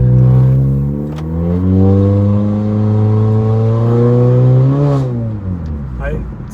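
A 2019–2020 Honda Accord Sport 1.5T with a resonator delete revs hard and accelerates, its loud droning tone climbing steadily, briefly dipping near the end before rising again.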